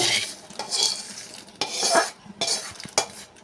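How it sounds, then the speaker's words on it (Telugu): With the stove off, fried cashews, almonds and coconut pieces are mixed into sweet jaggery pongal in a pot. A spoon scrapes and clinks against the pot in a few loud, irregular strokes, with faint sizzling between them. "ఈ విధంగా వేపుకున్న పప్పులన్నీ పోసుకున్నాం కదా, అవన్నీ కలుపుకోవాలి."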